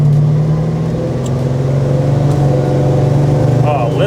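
A 1970 Dodge Charger 500 V8 fitted with a 4-barrel carburetor idles steadily and loud up close, a low rumbling drone filling the whole stretch, with people talking over it.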